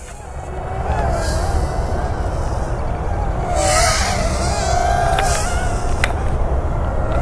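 A Heliway 903 mini toy drone flies with its small motors pushed to full throttle, giving a steady, loud whir with wavering higher tones that rise and dip throughout, with no talk over it.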